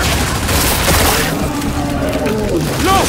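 Dense rapid gunfire and explosions fill a battle in the video game Gears of War 5, a continuous loud barrage with booming impacts and a shouted voice near the end.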